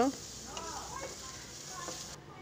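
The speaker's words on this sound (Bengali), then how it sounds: "এখন সবগুলো একসাথে নেড়ে ছেড়ে নেব" Chopped coriander and onion stirred together in a pan, a soft scraping sizzle with faint spoon sounds, low and brief, with a trace of background voice at the start.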